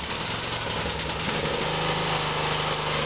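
Engine of a modified John Deere LA110 lawn tractor fitted with turbo, supercharger and nitrous, running at a steady loud idle with a constant low rumble and rough knocking pulse throughout.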